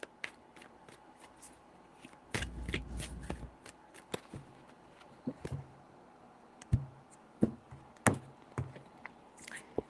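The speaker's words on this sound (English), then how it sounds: "3 shuffles" Tarot cards are shuffled by hand in three bursts of quick riffling and sharp card slaps, close up and fairly quiet, with soft clicks and taps between the bursts.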